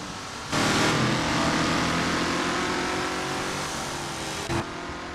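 Lola T70 race car at Interlagos in Assetto Corsa, its engine roaring loud and steady at high revs with a sustained buzzing drone, holding through the whole stretch with slight pitch shifts.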